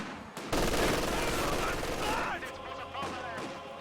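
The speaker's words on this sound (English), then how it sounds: "1 squad walks into the MG42." MG42 machine gun fire rattles in a World War II strategy video game, a dense sustained burst of rapid shots mixed with other battle noise, loud and continuous with a commentator's voice partly over it.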